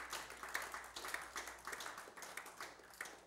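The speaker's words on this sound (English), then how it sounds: "Give the Lord a hand clap." Church congregation clapping hands during a Sunday service, a steady run of rhythmic, fairly soft claps that repeat throughout.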